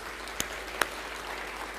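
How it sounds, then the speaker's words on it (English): An audience at the Avery Strong Gala applauds on a Friday night, a steady hiss of many hands clapping at even level, punctuated by two sharper, louder claps early on. "huge applause there"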